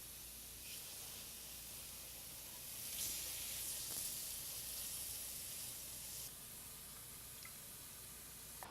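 Scallops searing in a hot pan just after being flipped give a steady, close broadband sizzle that swells louder for a few seconds midway, then settles back to a constant hiss.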